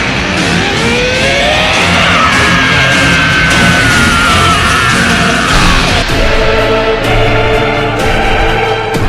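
Frieza, the cartoon villain, lets out a loud, sustained scream while transforming into his black form, a strained rising yell layered over a dense, roaring energy rumble that runs continuously for several seconds.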